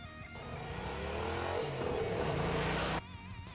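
Motorcycle engine pulling hard through second and then third gear during a moto licence course exercise, a loud, steady rising roar that holds for about three seconds and then cuts off abruptly.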